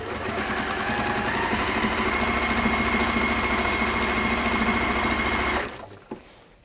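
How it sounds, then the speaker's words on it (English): Sewing machine topstitching around a lining, running fast and steady with a loud rapid mechanical chatter for several seconds before it stops abruptly, followed by a single small click. "top stitch around the other way"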